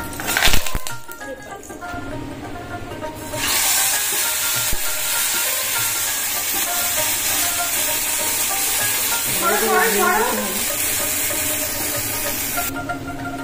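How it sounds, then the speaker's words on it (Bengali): Whole cardamom, cinnamon, cloves and bay leaf crackle in hot oil and ghee as a spoon stirs them, making a loud, dense sizzle with scraping and clinking strokes throughout, after a brief clattering start. "এবার দিলাম এলাচ, দারচিনি, লং, তেজপাতা, নেড়ে দিই"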